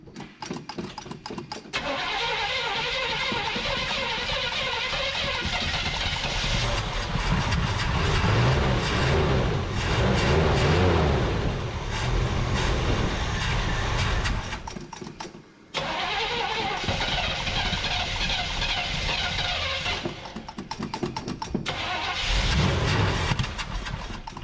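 A 1975 Chevrolet C20 Scottsdale truck engine cranks and catches, running rough and loud close up, briefly cutting out near the middle before restarting and revving unevenly, with no voices over it.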